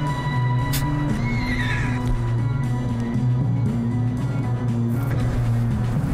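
Horse neighing and whinnying in the Red Dead Redemption 2 video game, a loud drawn-out call over a steady droning game soundscape with low tonal hum, no talk.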